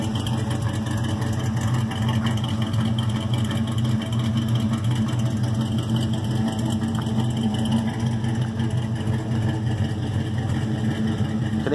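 A truck engine idling as it warms up, a steady low rumble with a mid-range drone, constant and fairly loud throughout with no speech.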